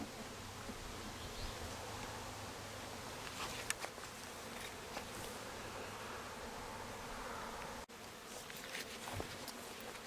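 Honeybees buzz around an open, strong hive during a June inspection, a soft continuous hum with faint rustles and a brief knock partway through.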